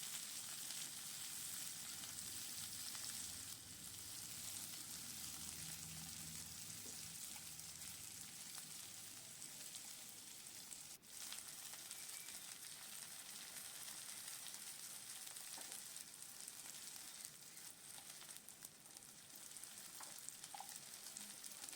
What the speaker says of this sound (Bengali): সেই পেঁয়াজটা দিয়ে দিলাম এবার পেঁয়াজটা দু তিন মিনিট নাড়াচাড়া করে নিয়ে একটু ভাজা ভাজা হয়ে গেলে